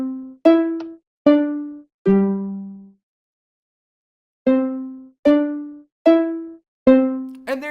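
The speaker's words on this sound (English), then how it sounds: "Five Nights at Freddy's 6 a.m. chime, which is the Westminster clock chime." Minecraft note blocks ring out the Westminster clock chime from Five Nights at Freddy's 6 AM, four bright plucked tones, a pause of over a second, then four more, each note decaying quickly.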